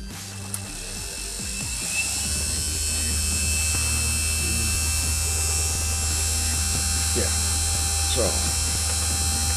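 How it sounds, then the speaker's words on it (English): A small electric motor run up to maximum speed under load, producing a steady high-pitched whine and hum that holds loud and constant throughout, close by, with a brief spoken word near the start. "I'm going to let the motor go all the way to the max"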